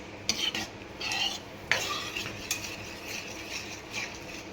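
Dal fry stirred in a pot after lemon is added, close metal spoon clinks and scrapes against the pot over a soft simmering hiss.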